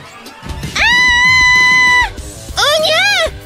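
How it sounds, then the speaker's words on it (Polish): A girl lets out two loud, sustained high-pitched screams, the first long and steady and the second shorter and wavering, with a brief pause between them. "Jej wrzask chyba zaraz spowoduje lawinę!"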